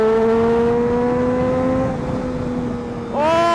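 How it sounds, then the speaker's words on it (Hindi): A Triumph Daytona 675's inline-three engine drones steadily at high revs, easing off briefly before revving sharply again, with a smooth, even tone up close. "इनलाइन 3 की साउंड इतनी प्यारी बाइक साउंड है ना इस बाइक की।"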